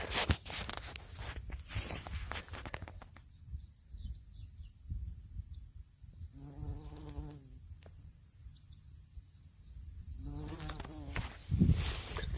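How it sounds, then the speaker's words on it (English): A bumblebee gathering pollen from a milkweed-family plant on a farm in fall, its low buzzing rising in two short bursts over a faint outdoor background with light rustling nearby. "The bumblebee."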